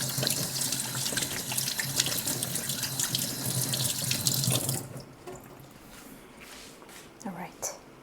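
Water runs steadily from a kitchen tap as hands are washed during cookie baking, a loud continuous splashing that stops abruptly partway through, followed by quieter handling sounds.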